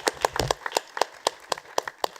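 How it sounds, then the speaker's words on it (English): A small group clapping at the close of an academic conference talk, sparse distinct claps in an uneven rhythm, fairly close, with a brief voice near the start. "Big round of applause"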